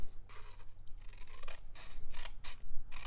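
Scissors snip repeated notches into a paper treat box, a run of crisp cutting strokes that grows denser and louder toward the end, heard close with no talking.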